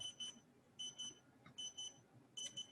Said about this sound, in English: And this is going to beep until it